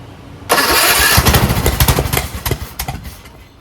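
A rebuilt lawn tractor engine cranks and catches loudly after a quiet moment, then sputters in an uneven, pulsing rhythm that fades as it struggles, close by with no talk.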